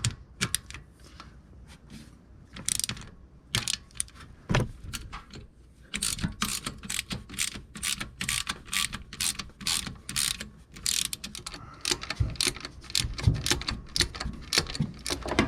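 A ratchet wrench clicks in quick, sharp bursts while working on the engine of a 1971 Chrysler New Yorker, with rapid strokes that get denser and steadier in the second half, close and fairly quiet.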